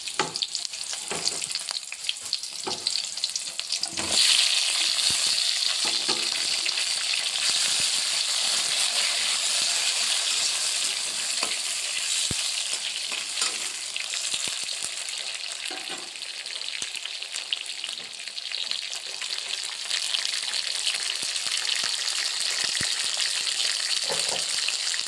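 Tomatoes and green chillies fry in a hot pan for a village-style pullagura, with a long, steady hiss and crackle close by and occasional scraping stirs. There is a brief murmur of a voice.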